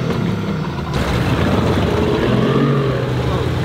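A 30 hp outboard motor mounted on a small rowing boat roars continuously and close by, with a dense, steady engine and water churn throughout.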